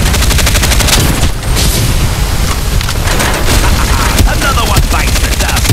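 Rapid gunfire bursts and booming shots ring out in the battle-royale game Farlight 84, a dense, loud, continuous clatter of repeated reports with a faint voice underneath.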